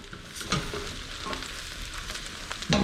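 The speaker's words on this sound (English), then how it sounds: "We're gonna head and throw the mushrooms in the pot there, just like so." Mushrooms sizzle in a hot pot with olive oil, giving a steady, moderately quiet frying hiss with a few soft knocks and stirring scrapes near the start and end.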